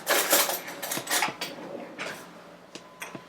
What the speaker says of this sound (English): Well, I can stir it up. Or I can get you a spoon.